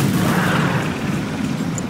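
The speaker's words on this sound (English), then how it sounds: "Tiberium explosion detected." Loud, dense rumbling boom from a Tiberium explosion in Command & Conquer 3: Kane's Wrath, a continuous low roar with crackling debris over two seconds of skirmish battle.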